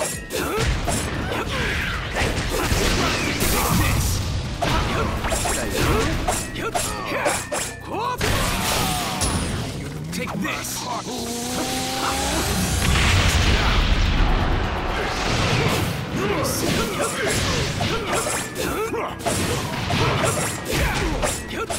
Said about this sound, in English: Fireball. Here I go.